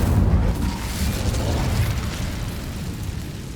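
Incendio fire spell cast in the Hogwarts Legacy video game, a broad roaring burst of flame that swells at once and rumbles on steadily, loud and close, with no talk over it.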